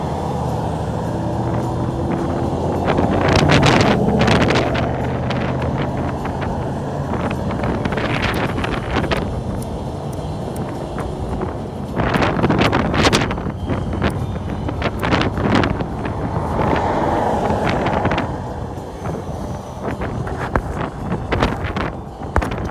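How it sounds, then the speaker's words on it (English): Strong wind blowing outdoors buffets the microphone in a constant loud roar with gusting surges, no voices heard. "It's a 2 mile an hour wind out here."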